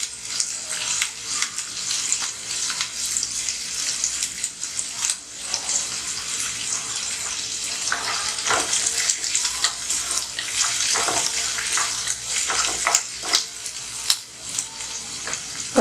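Onions sautéing in a pan for onion chutney, a loud continuous sizzle and hiss with occasional stirring scrapes, close up and with no talking.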